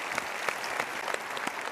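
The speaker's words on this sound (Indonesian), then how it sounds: "kita berikan tepuk tangan dulu" An audience at a motivational seminar gives a round of applause, soft and somewhat distant clapping with scattered sharper claps over a short stretch.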